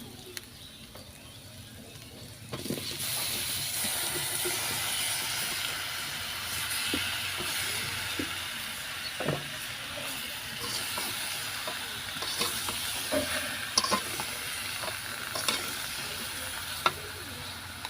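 Cinnamon, cumin and a dal spice mix drop into hot oil for a tomato pickle, bursting into a steady hiss after a couple of seconds with scattered crackles and pops, close by and without talk.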